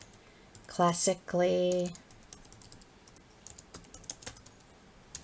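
Fingers tapping out a quick run of keystrokes on a computer keyboard, light clicky taps clustered close by, following a short spoken phrase at the start.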